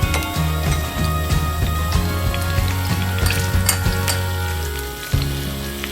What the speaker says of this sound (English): Put the mixed eggs into the fry pan for 2 to 3 minutes.